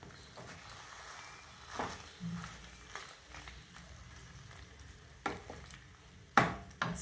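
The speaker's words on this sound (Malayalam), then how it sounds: "അതെല്ലാം ആ സോസ് എല്ലായിടത്തും ആകത്തക്കവണ്ണം നമുക്ക് ഇളക്കി കൊടുക്കാം" Pasta with chicken sausages in sauce being stirred in a pan, with soft scraping and a low sizzle, and a few sharper clinks of the utensil against the pan near the end.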